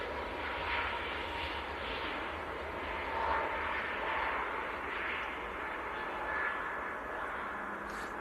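A Boeing 737 MAX 8 jet from Reykjavik passes at Manchester Airport in freezing weather, its broad engine roar steady and fairly distant, swelling slightly and fading over several seconds with no talk.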